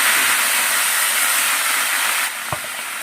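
A pressure cooker holding katla fish head and bottle gourd gives a loud, steady steam hiss that softens abruptly near the end, followed by a single short clunk.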